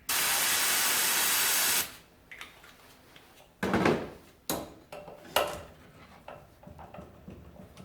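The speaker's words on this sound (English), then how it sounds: "let me spray it real quick" Freeze spray blasts onto a stuck part of a 1980 GMC C35 truck in one loud, steady hiss lasting almost two seconds, followed by scattered metallic clinks and knocks from tools on the part.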